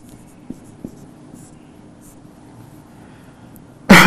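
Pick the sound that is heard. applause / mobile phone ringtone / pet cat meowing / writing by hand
writing by hand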